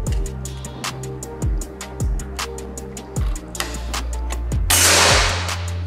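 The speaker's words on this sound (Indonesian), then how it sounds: "Lanjut lagi tembakan yang ke-9." Repeated sharp shots from a Gousuto Oria V2 air rifle, several crisp cracks spaced about a second apart, close and loud, with a burst of hiss near the end.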